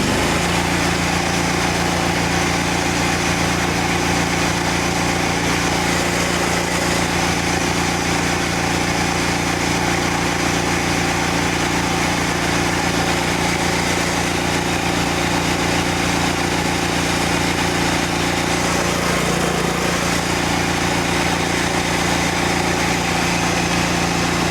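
A machine engine fitted with a stainless steel chemical injector roars steadily at full throttle, loud and close, a constant droning hum with no change in pitch throughout.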